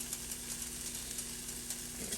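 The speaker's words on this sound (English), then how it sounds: "then we're going to go ahead and start cooking our pepper and onion" Pepper and onion frying in Country Crock butter in a hot pan, a steady dense sizzle and crackle with a faint constant hum beneath, continuous and close.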